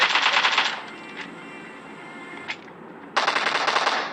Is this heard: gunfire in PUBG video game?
yes